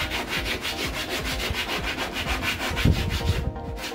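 Rhythmic back-and-forth sanding strokes rasp against a hard plaster belly cast, close and steady, with a few soft knocks near the end.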